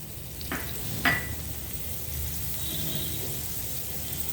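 Butter melting in a pan for egg rice gives a soft, steady sizzle, with a couple of faint clinks from a utensil near the start.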